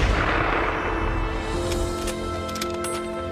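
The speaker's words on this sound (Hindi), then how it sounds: "स्नाइपर निशाना साधता है और गोली चला देता है" A single loud sniper rifle gunshot cracks at the start, followed by a long rolling echo that slowly fades away.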